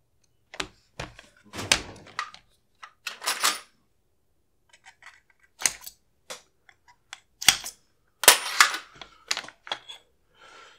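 Takedown pins being pushed and parts handled while a Sig MCX rifle is disassembled, a series of sharp metallic clicks and knocks in irregular clusters with quiet gaps between them, close up and with no talking.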